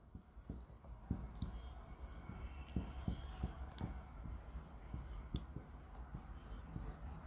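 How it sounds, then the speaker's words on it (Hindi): Marker or chalk writing a chemistry nomenclature answer on a board, with a steady run of short scratchy strokes and taps under a low room hum, and no voice over it. "सबसे पहले नाम लिख देते हैं"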